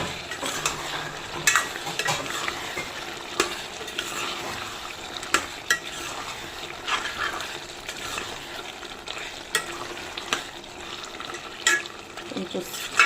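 Mutton dosakai curry with chilli powder sizzles steadily in a pan while a spoon scrapes and clinks against the metal in an irregular stirring rhythm, close up.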